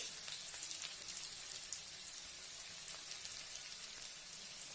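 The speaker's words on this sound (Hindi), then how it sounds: "अब इसको थोड़ा भूनेंगे।" Onions and chili frying in a pan for egg pav bhaji gravy, giving a steady, dense crackling sizzle with no talk.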